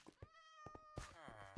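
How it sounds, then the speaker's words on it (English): A cat in the Minecraft video game meows twice in quick succession, each call short and clear with a rising-falling tone, with faint game noise around it. "I hear a cat."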